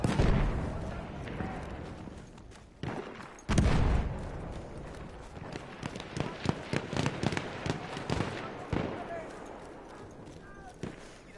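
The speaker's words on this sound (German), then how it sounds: "Gibt jetzt einfach fette Granate gefressen. Bam! Bam!" Grenade blasts and battle noise in Battlefield 1, heavy booms with a sharp loud burst near the start and a string of crackling explosions and shots after, with talk over the top.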